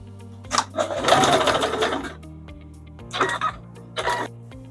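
A sewing machine stitching around fabric coasters runs in one long whirring burst, then two shorter ones, close and clear over a steady low motor hum.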